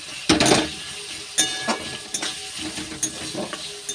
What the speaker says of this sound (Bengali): পেঁয়াজটা বেশ ভালো করে লাল লাল করে ভেজে নিতে হবে।